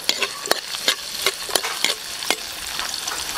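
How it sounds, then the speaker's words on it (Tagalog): Garlic and onion being sautéed in a pan for bulalo kare-kare, with a steady crackling sizzle and a few sharp scrapes of a spatula stirring, close up and with no talking. "Tapos natin gisa ng bawang, isunod natin yung sibuyas."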